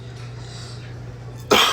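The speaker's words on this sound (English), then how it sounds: "Sorry for the coughs" During a pull-day gym workout, a single sharp, loud cough bursts out near the end after a stretch of low, steady hum.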